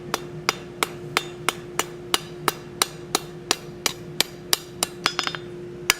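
A blacksmith rounds a forged plant hanger on the edge of an anvil with a steady, evenly spaced run of about seventeen ringing hammer blows, close and clear, with a couple of quicker light taps near the end.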